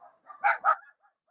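A dog gives two sharp, close barks in quick succession, with softer yips and whimpers just before and after them, and no voices.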